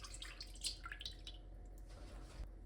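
Cold milk, 225 grams, poured into a plastic tub as the first liquid for a toast bread dough, making a quiet, brief trickle and splash near the start with no voices.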